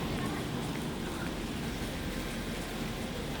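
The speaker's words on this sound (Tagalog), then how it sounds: "Wow, nag-hailstorm." A hailstorm heard from inside a train on the Visp to Zermatt line in Switzerland: a steady, dense rattling wash of hail that stays loud and unbroken throughout, with faint talk mixed in.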